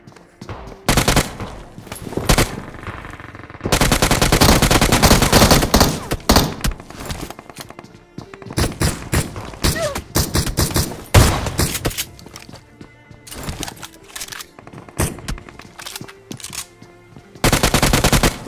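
Rapid automatic gunfire rattles in a mobile battle royale match at Pochinki, with long loud bursts broken by short pauses and a few separate thuds, close and dominant throughout.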